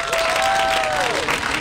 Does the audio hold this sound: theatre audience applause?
yes